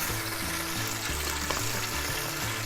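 Mustard seeds and curry leaves frying in hot oil, a dense close crackling sizzle that runs unbroken throughout.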